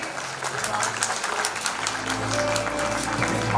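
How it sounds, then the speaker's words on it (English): An audience applauds at the launch of the IIID directory during a coatings industry conclave. Steady clapping fills the hall continuously, with music or a hum beneath it. "Can we have a round of applause, ladies and gentlemen?"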